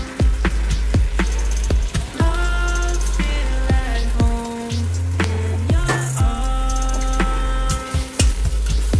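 Cilantro is tossed into a sizzling sofrito and stirred in a pan. Steady frying crackle runs throughout with repeated scraping clicks from the stirring, close and fairly loud, and no talking.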